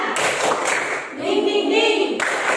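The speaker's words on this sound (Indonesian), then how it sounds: "kita tepuk semangat dulu" A classroom group doing the 'tepuk semangat' spirit clap, a short burst of rhythmic hand claps mixed with voices, close and moderately loud.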